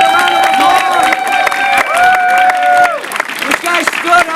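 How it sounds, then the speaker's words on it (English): An audience at a talk on becoming a California district delegate claps and cheers loudly and continuously, while raised voices and whoops ring out over the dense applause. "Everybody give Nathan a round of applause."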